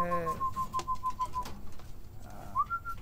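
A pet pigeon kept at home gives a soft, fairly faint whistling coo, a steady held tone that drops away and then returns with a short rising note.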